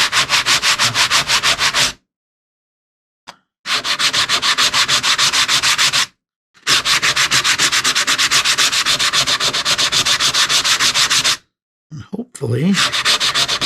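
Steady sanding of a Namco Donkey Kong arcade cabinet with a flat wooden block, close and loud, coming in long rhythmic back-and-forth bursts broken by short pauses, with a brief voice near the end.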